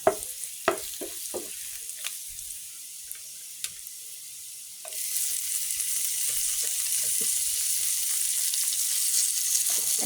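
Garlic, chili powder, turmeric and salt stirred together in a pan for shrimp bhuna, starting with scattered spoon clinks and scrapes, then a loud, steady sizzle takes over from midway, close and continuous.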